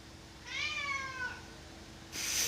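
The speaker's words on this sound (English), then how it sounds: "My cat agrees with me." A single drawn-out cat meow, rising then falling and fairly close, followed by a brief burst of hiss-like noise in a quiet room with no talking.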